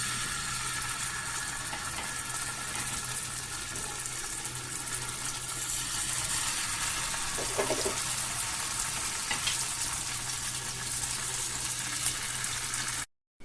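Dipped paneer pieces fry in a little oil on a dosa pan, a steady bright sizzle running throughout with a brief clatter partway, no talk.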